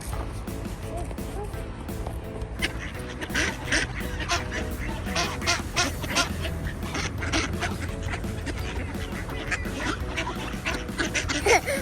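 A large crowd of ducks on a winter outing in Oslo keeps up dense, overlapping quacking and chatter close at hand, a busy continuous racket with a few voices talking among the birds.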